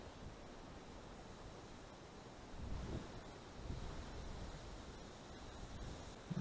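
Faint, steady wind buffets the microphone on a river oxbow of the Pripyat during a fishing trip, a soft broadband rush that swells slightly partway through, with no voices.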